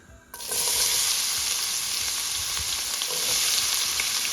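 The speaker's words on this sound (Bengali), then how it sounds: "আমরা দিয়ে দিচ্ছি পেঁয়াজ" Sliced onions hit hot oil left from frying hilsa fish, starting a loud, steady sizzle and frying hiss that swells in after a brief quiet start and holds evenly to the end, with no talk.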